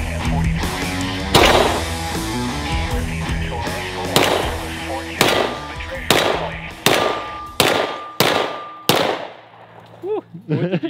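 A series of sharp gunshots from a .223 rifle rings out one after another in the desert, spaced about a second apart, with metallic clanging and voices in the background.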